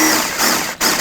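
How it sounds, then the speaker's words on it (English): A drill bit bores out the centre of a plastic rivet on a 2001-2007 Volvo V70 bumper, giving a short, close, high whine with a brief dip before it resumes. "I'm going to take a drill bit and drill out the center."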